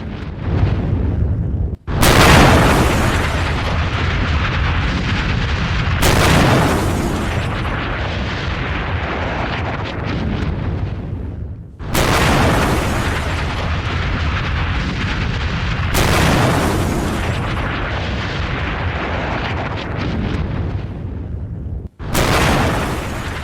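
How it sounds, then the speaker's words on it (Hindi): Explosions from US air strikes in Venezuela, a series of heavy, sustained booming roars, each abruptly cut and followed by the next, loud and continuous with no talking. "कई किलोमीटर दूर तक धमाके की जोरदार आवाज"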